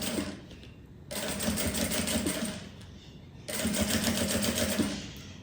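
Sewing machine stitching a finishing seam on a handmade shoulder crossbody bag, running in two loud, steady bursts of rapid stitching separated by a short quieter pause.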